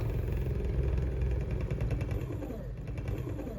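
Electric skateboard motor spinning a flywheel at full speed in neutral, a steady whirring drone with a rapid mechanical flutter, easing slightly toward the end.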